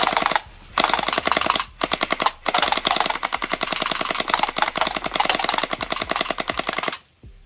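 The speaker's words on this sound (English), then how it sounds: "let's see how good my aim is with the new Gel Blaster" A Gel Blaster Surge toy gun fires gellets outdoors in rapid automatic bursts, a sharp close mechanical rattle broken by two brief pauses before a long continuous run that stops abruptly.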